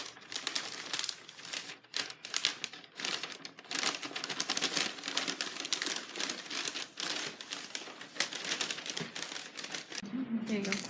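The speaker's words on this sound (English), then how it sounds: "I was watching you wrap the present." Wrapping paper crinkles and rustles continuously up close as a present is wrapped with far too much paper, busy crackling bursts with voices talking underneath.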